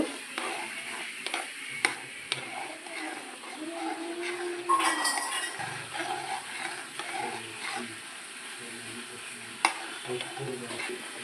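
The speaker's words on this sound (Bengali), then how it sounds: "এইভাবে পাঁচ মিনিট মিশ্রণটাকে নাড়তে থাকবো অনবরত" Neem leaf paste is stirred into melted glycerin soap base in a pot for homemade skin care soap, giving soft, continuous scraping and swishing with faint sizzle and a few light clinks, with a voice speaking quietly at times.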